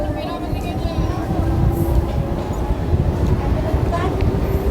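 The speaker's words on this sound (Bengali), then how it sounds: "বীরনগর থেকে আমাদের ট্রেন ছেড়ে দিল তার গন্তব্যের উদ্দেশ্যে" A train pulling out of Birnagar station on the Krishnanagar to Ranaghat line, its low rumble and rolling wheel noise rising steadily from inside the carriage, with faint voices in the background.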